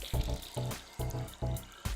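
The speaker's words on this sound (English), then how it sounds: "Fill the unit with water from the mains tap." Water from a mains tap runs into a Gappscan unit, a steady splashing fill with regular rhythmic surges, close and moderately quiet, with no talk.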